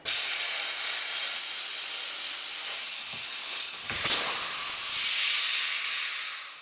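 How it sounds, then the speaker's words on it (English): A regular air blower forces a steady, loud hiss of air into a small equipment tyre being seated on its rim, the broadband rush running unbroken for several seconds with a brief dip and surge near the end. "I'm just using a regular air blower"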